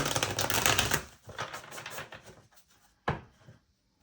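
Tarot cards handled and shuffled for a Leo love reading, giving a dense papery riffle for about a second, softer irregular rustles and taps after, then one sharp snap near the end and silence.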